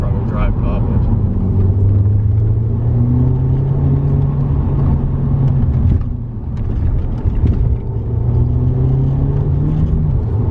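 An Audi S3 quattro accelerating from inside the cabin, a steady low engine drone that rises in pitch as the revs build, easing briefly before climbing again.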